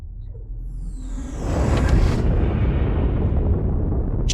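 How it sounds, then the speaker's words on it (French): Spaceship blowing up in a video game: a loud, sustained explosive roar that swells and rumbles for several seconds, heavy and close, with no talking over it. "Ta première explosion de vaisseau."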